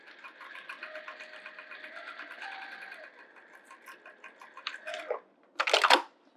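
A sewing machine runs a steady stitching burst along the outer edge of a fabric bag, humming evenly for about three seconds, then slowing and stopping, followed by a few soft handling clicks and a louder rustle of fabric.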